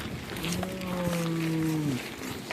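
A single long, low moaning call from a tiger, drawn out like a cow's moo, close and steady for about two seconds.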